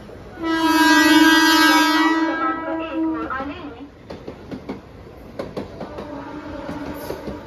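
Siemens EMU fast local train at Vidyavihar station, with a long, loud horn blast at the start followed by rattling wheel and carriage clatter, rhythmic clicks over the rails and a platform announcement voice heard over it.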